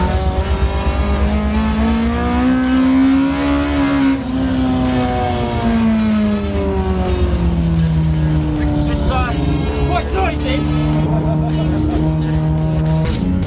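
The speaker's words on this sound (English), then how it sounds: "This is actually my first time in this car, and my first time drifting at Rockingham." A drift car slides sideways around Rockingham circuit, its engine note droning steadily and loud throughout with pitch rising and falling as it revs, tire squeal mixed into the continuous roar.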